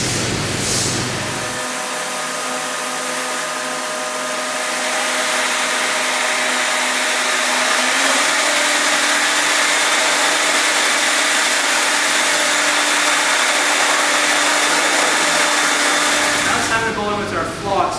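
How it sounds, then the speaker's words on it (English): A heat gun or hair dryer blows steadily and loudly on an aftermarket carbon fiber spoiler fitted with 3M tape on an Audi S3/A3, a continuous airy roar with a faint whine, running nearly the whole time before switching off. "It's time to heat up the spoiler to kind of loosen up that adhesive"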